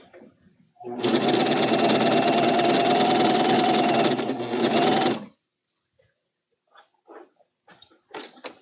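A coverstitch sewing machine stitches knit fabric in a loud, rapid, steady whir lasting about four seconds, then stops abruptly; a few soft clicks and handling noises follow in the quiet.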